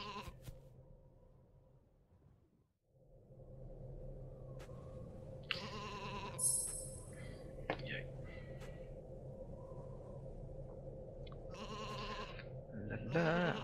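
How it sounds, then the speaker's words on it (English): Sheep bleat in a video game set on an island, several short, wavering calls scattered over a steady background hum, with faint speech now and then. "Now, come here, Mr. Blue Sheep"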